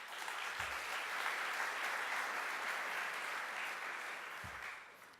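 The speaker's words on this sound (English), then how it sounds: "let's thank all the speakers by clapping" An audience claps steadily after a talk at a deep learning conference session, a dense, even wash of applause heard from inside the room that fades slightly toward the end.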